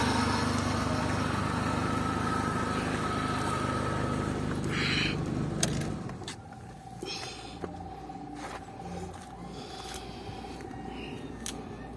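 A car engine fitted with a high-flow air filter runs with a steady, loud drone for about six seconds, then is switched off, leaving a much quieter space with a few faint clicks and ticks.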